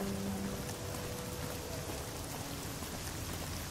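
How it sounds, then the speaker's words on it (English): Steady rain in Fallout New Vegas, a constant hissing patter of drops on surfaces with no pauses or voices, filling the short stretch at an even, moderate level. "It's raining again. It rains more in this game than it rains in real California."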